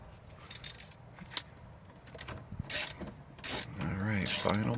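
Ratchet wrench working loose nuts on a boat's stern drive, heard as quick close clicking bursts mixed with metallic clanks, with brief muffled talk near the end.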